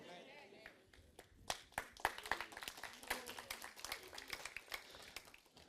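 Scattered, hesitant clapping from a church congregation, sparse at first and then thickening into a modest round of applause, fairly close.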